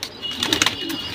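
A pair of teddy pigeons coos briefly up close, a short soft murmur rising in the middle and fading.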